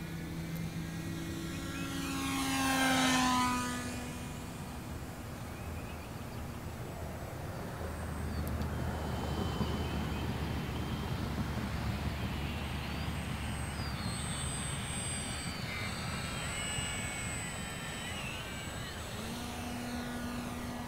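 An E-Flite Micro Draco RC model airplane on a 4S battery pack flies past, its electric motor and propeller rising to a loud whine before settling into a steady, fainter drone over wind.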